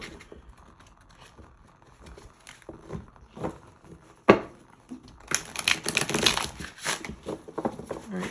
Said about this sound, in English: I just want to make sure I've shuffled these good.